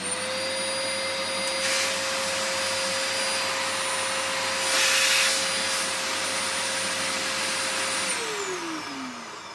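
A Dyson vacuum cleaner runs steadily and loudly with a whining motor tone, brief surges of airflow noise, then winds down as it is switched off near the end.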